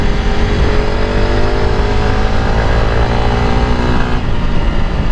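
A Honda CRF300L Rally single-cylinder motorcycle engine while riding, a loud, close, buzzing drone steadily rising in pitch under acceleration before easing off near the end, with wind rush and no talking.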